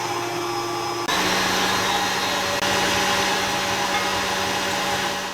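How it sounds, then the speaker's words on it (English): Electric mixer whisking egg whites with cream of tartar, a loud steady whirring drone close by that jumps slightly in intensity after a second and runs on without pause. "I'm going to get those whisking before we add our sugar."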